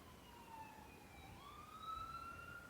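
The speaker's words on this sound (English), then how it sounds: "ambulance." Ambulance siren passing outside, faint and distant, its rising and falling wail heard alone in a quiet room for a few seconds.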